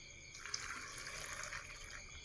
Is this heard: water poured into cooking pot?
yes